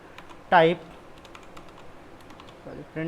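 Light clicking of a computer keyboard while Python code is typed, faint scattered keystrokes under someone speaking Hindi, whose voice rises over them at two points.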